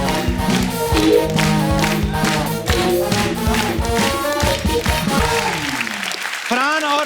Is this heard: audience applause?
yes